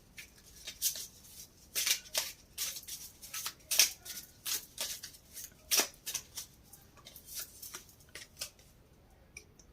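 Tarot cards shuffled and handled on a table during a reading, giving a run of crisp, close-up riffling and slapping flicks in irregular bursts, with no talking over them.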